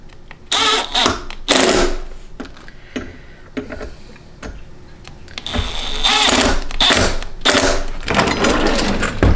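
A power drill set to low torque drives screws for a cabinet drawer pull in a kitchen, whirring loudly in several short bursts separated by brief pauses.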